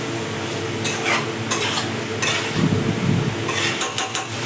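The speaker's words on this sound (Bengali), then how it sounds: "বেশ অনেকক্ষণ ধরে ভালো করে কষিয়ে নিচ্ছে" Spiced potato curry stirred and fried in a pan, a steady sizzle under repeated scraping strokes of a spoon against the metal, with louder bursts of stirring throughout and no voices.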